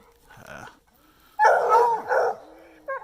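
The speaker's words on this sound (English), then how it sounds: "you guys can hear the dogs treeing." Coon hounds treeing a raccoon bay and bark in loud, drawn-out howling bursts, close by, with short gaps between calls and no talking.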